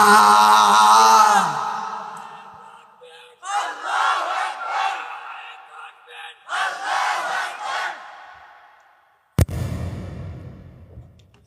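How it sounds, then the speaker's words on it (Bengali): A large crowd at an outdoor Islamic sermon gathering shouts takbir in unison in several loud, sustained waves of massed voices, each swelling and then fading, with a sharp thump near the end. "হাত তুলিয়া একবার তাকবীর দাও না"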